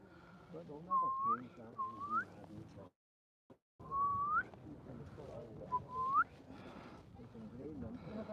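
A person whistles rising, piping calls imitating oystercatchers, several short phrases with a pause, over outdoor background noise and faint talk on a coastal hike near St Andrews.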